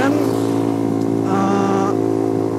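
A Honda CBR motorcycle fitted with a racing exhaust revs loudly and steadily, its throaty engine tone holding close and continuous with a slight pitch rise partway through.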